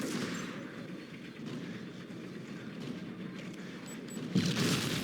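Dense, rumbling gunfire runs through a speedrun of an action video game, sustained and loud with rolling low booms and a sharper burst near the end, with no one speaking.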